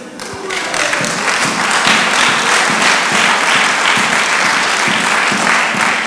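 Sustained applause from a church audience at a Stockholm church opening swells and holds loud and full: many people clapping together in a thick, continuous roar with scattered sharper claps.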